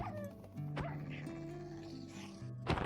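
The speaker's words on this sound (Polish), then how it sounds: "Czy ten pies jest dalej wścieknięty?" A dog in Minecraft barks and yips sharply several times, with whimpering tones between the barks. It is close and fairly loud, and faint game sounds play underneath.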